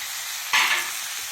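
Boiled potato, green peas and mushroom are stirred into a sizzling tomato-based gravy in a pan. A steady close hiss swells sharply about halfway through as the ingredients go in, then settles into continuous frying with no talking.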